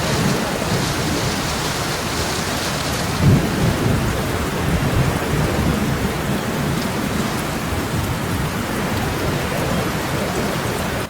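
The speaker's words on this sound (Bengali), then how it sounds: "খুব জোরে বৃষ্টি হচ্ছে, ভালোই হয়েছে।" Heavy rain pours down in a dense, constant roar, with a rumble of thunder rolling in around the third second; no voices are heard.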